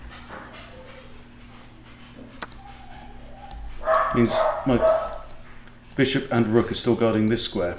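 A dog barks in loud repeated bursts in the background while someone talks over it throughout.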